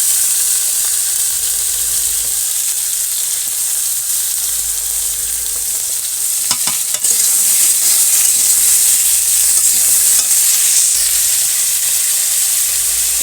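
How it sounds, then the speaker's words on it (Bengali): Potatoes frying with turmeric and spices in a pan in a village kitchen, giving a steady, loud sizzle and hiss throughout with a few brief clatters near the middle. "হলুদ দিয়ে দেবো এখন লাল লাল করে ভেজে নেবো"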